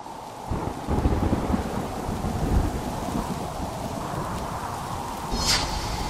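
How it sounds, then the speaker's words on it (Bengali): A thunderstorm with heavy rain and wind roars steadily throughout, with rumbling low thunder swelling near the start and a sharper crack toward the end; no voices. "ঝড়ও কমার কোনো নামগন্ধ নেই।"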